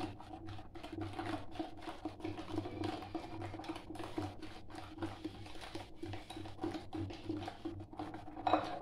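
Steady scraping and clinking of a whisk against a bowl of cake batter, a continuous stirring rhythm up close with no talking.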